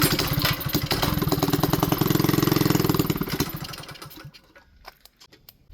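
A mini bike's small engine fires up on the first pull and runs with a rapid, loud, chugging putter for a few seconds, then dies away and fades into near silence with no voices.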